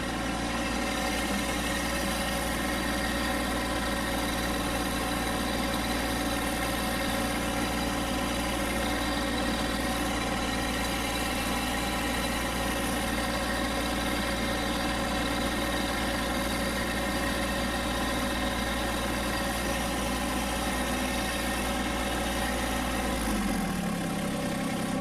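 A John Deere GC1710 compact tractor engine idles steadily at close range, a continuous even rumble with a low harmonic drone that holds for most of the stretch, then cuts off abruptly near the end.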